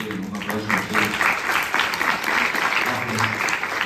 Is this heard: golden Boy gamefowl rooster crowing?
no